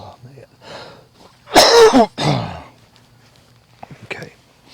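A person coughs hard in a short burst of two heavy coughs near the microphone, among faint background murmur and a few later small sounds.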